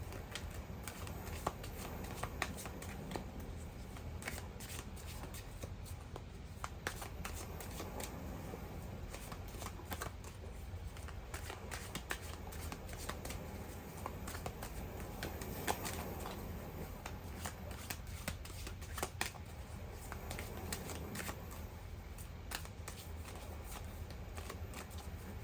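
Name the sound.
oracle cards being shuffled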